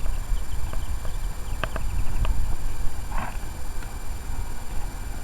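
A horse walks under saddle, hooves clip-clopping in an irregular walking rhythm, fairly close over a noisy outdoor background.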